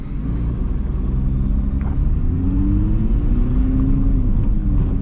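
A Nissan GT-R sports car driving slowly over rough off-road ground, its engine a steady low rumble close to the microphone with no talking.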